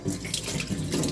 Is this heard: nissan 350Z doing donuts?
no